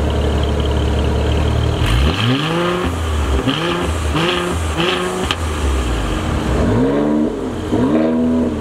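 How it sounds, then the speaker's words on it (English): A Mercedes AMG C43 with a performance exhaust revs repeatedly, each throttle blip climbing and falling in pitch in a steady sequence of close, loud engine pulls. "I'm going to be showing revs and accelerations."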